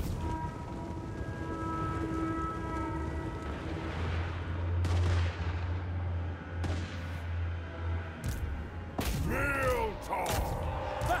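Scattered gunfire cracks through a Total War Warhammer 3 battle, several sharp shots spread over the clip against a steady low rumble and background battle noise, with a voice talking at times.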